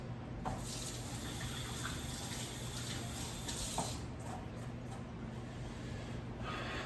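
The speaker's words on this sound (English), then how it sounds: "I'm gonna rinse my hands." Steady running tap water splashing into a kitchen sink as hands are rinsed while salsa and guacamole are prepared, a continuous close wash of water with a few brief clinks and no talking.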